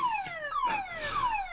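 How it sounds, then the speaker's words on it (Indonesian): A car alarm wails outside a house at night, a near, steady electronic tone sweeping repeatedly downward in pitch, sounding alone without any voices. "alarm mobilku menyala dan membuat bising"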